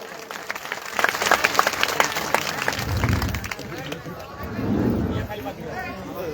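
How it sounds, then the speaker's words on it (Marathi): A crowd at a village welcome for Manoj Jarange Patil bursts into sustained applause, dense clapping rising and swelling over several seconds with background chatter and murmuring voices. "टाळ्या वाजून आपण त्यांचं मनोभावे स्वागत करावं"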